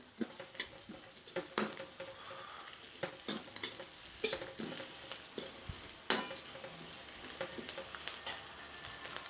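Onion, green chilli, cumin and curry leaves sauté in a pan for a wedding-style mixed vegetable poriyal, with crackling sizzle and repeated scraping stir strokes and pops at an irregular rhythm, close and alone without talk.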